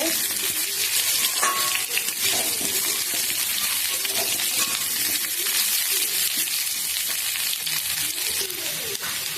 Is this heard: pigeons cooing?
no